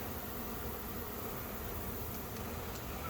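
Honey bees hum in a steady, soft drone inside a hive opened for inspection, a thin colony with few bees present, the buzz continuous and even throughout.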